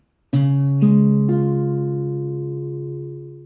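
Fingerstyle guitar arpeggiates a chord, three plucked notes entering one after another about half a second apart, then ringing together and slowly decaying, close and clean with no voice.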